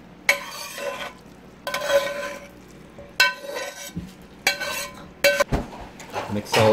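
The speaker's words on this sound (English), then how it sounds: "I'm just gonna add all of this to the mixture and then mix it in." Cooked vegetables are stirred into a mixture in a bowl, bursts of scraping and clinking from a utensil against the dish coming in irregular strokes, with faint talk in the background.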